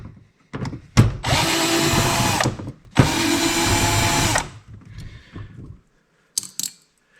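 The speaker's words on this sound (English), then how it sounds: "We've got a couple of screws on this side, so I'm gonna go ahead and take those off." A power drill backs screws out of a car amplifier being scrapped, two long whirring runs of about a second and a half each, loud and close, followed by brief handling clatter.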